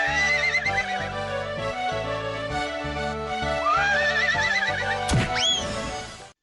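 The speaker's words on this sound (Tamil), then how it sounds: "யாருக்கும் அடங்காத வெள்ளை குதிரை ஸ்டாலினுக்கு லாடம் கட்டுறாங்களோ" A white horse in a cartoon neighs loudly, a long rising and falling whinny near the end over a bed of music, with faint hoof clip-clops and no talking.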